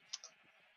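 A video game sheep from a flock of dyed blue and purple sheep gives a quick, quiet double bleat, two short high bursts followed by soft background noise.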